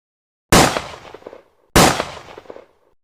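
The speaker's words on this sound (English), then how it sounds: "2 gunshots rang out." Two sharp, loud gunshots about a second apart, each a sudden blast followed by a short rumbling decay, with no talking.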